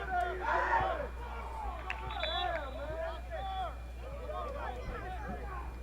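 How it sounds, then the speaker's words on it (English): Crowd noise at a youth soccer tournament, a loose murmur of spectators swelling and calling out far back under a commentator's continuous play-by-play. "Crowd is getting into it."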